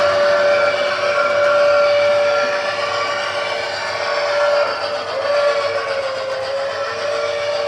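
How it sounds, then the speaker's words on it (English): A loud, sustained steam train whistle, a quilling whistle, sounds for several seconds, its pitch wavering slightly with a rich, breathy tone throughout. "It does like a quilling whistle."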